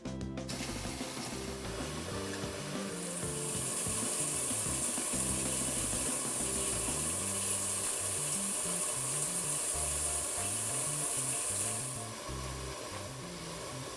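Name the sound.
water running into sink to soak plant pots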